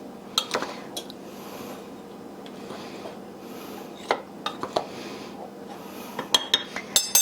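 Salt being mixed into dry ingredients in a bowl, with soft scraping and intermittent clinks of a utensil against the bowl, close and fairly quiet.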